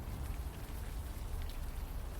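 Rain falls on a city street in the adventure game Unavowed, a soft, even hiss of drops that is quiet and continuous, with no voices.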